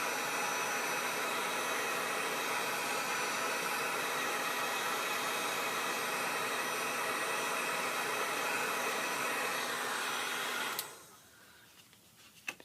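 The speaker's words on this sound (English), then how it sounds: "I kind of moved my heat tool over" A heat tool blows a steady, loud broadband roar while drying a leaf design stamped twice in lemon juice for a handmade sepia effect, then cuts off abruptly near the end, leaving a quiet room.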